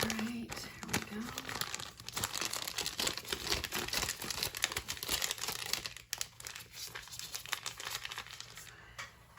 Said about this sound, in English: I'm gonna go ahead and wrap up my piping bag.